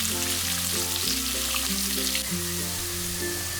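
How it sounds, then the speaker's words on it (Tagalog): Garlic and sliced onion sauté in a pan for beef caldereta, making a steady close sizzle with light stirring scrapes, alone and without talk. "Idagdag na natin ang hiniwang sibuyas at magpatuloy tayo sa paggisa hanggang malambot na ito."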